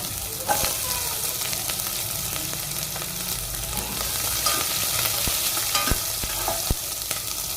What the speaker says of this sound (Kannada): ಒಗ್ಗರಣೆಗೆ ಈರುಳ್ಳಿ ಹಾಕಬೇಕು